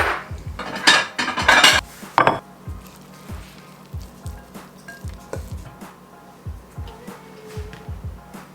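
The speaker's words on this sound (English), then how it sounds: "I'm gonna plate up my food, put some greens on the plate" Dishes and cutlery clink and scrape while vegan food is plated into a bowl, a cluster of bright clatters early on followed by softer, repeated spoon scoops and taps.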